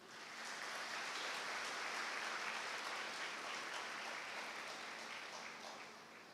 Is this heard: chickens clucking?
no